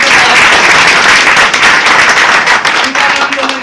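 Loud, dense applause from an audience at a DXN business gathering in Doha, Qatar, sustained steadily throughout with no clear gaps, clapping filling the whole stretch.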